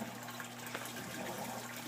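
Water flows softly through a bridge siphon that pulls it from one garden bed into the next inside a bio shelter, making a faint, steady wash over a low hum.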